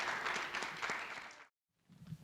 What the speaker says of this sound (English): Please give them a round of applause as they come up to the stage.